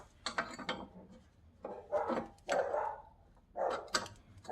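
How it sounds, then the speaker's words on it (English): Several dogs bark in short, separate bursts, near and fairly loud, with brief pauses between the barks. "let me introduce you to my dogs."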